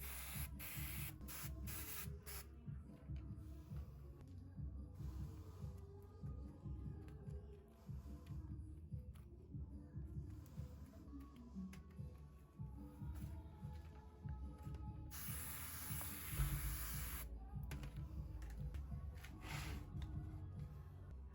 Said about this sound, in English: I'll spray water on the dry moss from earlier